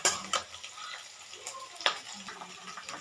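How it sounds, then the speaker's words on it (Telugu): Okra and green chillies frying in a pan, a soft, steady sizzle broken by occasional stirring scrapes and clinks, close but quiet. "ఇది తర్వాత మిర్చి వేసుకోవాలి. దీన్ని బాగా ఫ్రై చేసుకోవాలి."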